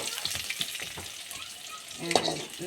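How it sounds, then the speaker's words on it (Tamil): Chana dal fries in a pan with a continuous sizzle, stirring scrapes and a few clinks, and a louder scrape near the end. "அப்புறம் கத்திரிக்காய் சுக்கு சட்னி பீக்கங்காய் சட்னி பார்த்தீங்களா கடலப்பருப்பு நல்லா கறி வந்துருச்சு"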